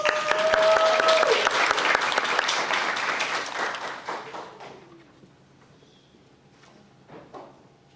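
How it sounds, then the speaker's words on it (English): Applause at an afternoon book launch as Miss Ingrid Pierce is welcomed to speak; loud dense clapping fills the room for several seconds, then fades out, with faint voices underneath. "Let's give a round of applause for Miss Ingrid Pierce."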